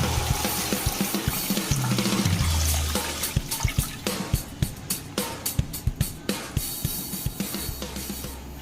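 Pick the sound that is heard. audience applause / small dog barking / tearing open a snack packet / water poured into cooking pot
water poured into cooking pot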